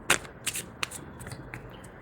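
Tarot cards are shuffled and drawn with a few quick, close riffling flutters in a short, quiet burst.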